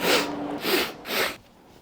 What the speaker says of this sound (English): I can't wait to listen back on all of my sniffling